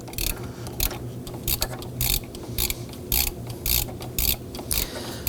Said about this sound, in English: Use a 12mm socket with our ratchet.